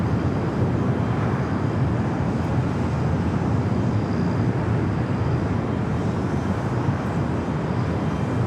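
A Boeing 737-900ER airliner at Los Angeles International Airport gives off a steady, broad engine roar that holds evenly for several seconds, heard from a distance with no voices over it.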